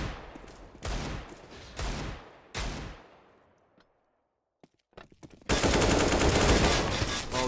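Pistol gunfire in a Counter-Strike match comes in sharp, loud bursts of rapid shots, a few spaced volleys that decay into quiet, then clicks before a dense stretch of continuous firing.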